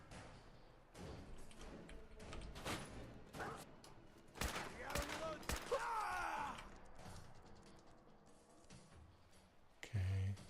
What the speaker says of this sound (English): Who's that shooting at me?